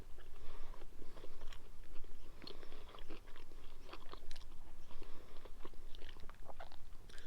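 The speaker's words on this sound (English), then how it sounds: "Nice little bit of crunch on the crust." Biting and chewing a food with a crunchy crust, eaten outdoors on a River Murray trip; steady close crunching and chewing sounds run throughout with no talk.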